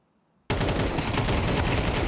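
AK rifle fire in Counter-Strike 2 that starts abruptly out of silence and continues as a loud, dense stream of rapid shots to the end.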